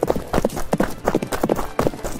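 Horse hooves clip-clop at a brisk, even rhythm as a prince rides in a Barbie doll story, close and clear, with several sharp hoof strikes per second throughout.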